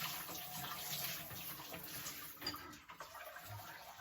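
Water running and splashing while rinsing a man's hair, a soft, steady shower-like flow with small fluctuating splashes, fairly quiet and close.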